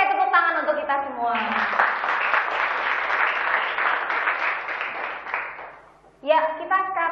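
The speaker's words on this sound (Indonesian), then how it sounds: "Oke, tepuk tangan untuk kita semua." Audience applause at a madrasah event in Kesugihan, Cilacap: a burst of clapping that lasts about five seconds, then fades, with a voice speaking just before and just after.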